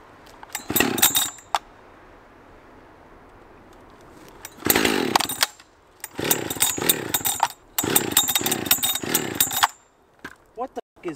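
Husqvarna 572 gas chainsaw felling a tree, several bursts of high revving engine snarl separated by idle pauses, close and loud, with brief voices in the gaps.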